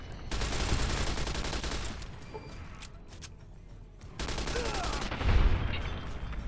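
Gunfire in the video game Fallout New Vegas, rapid bursts of shots and sharp reports in two clusters, with a heavy boom near the end and a pause between.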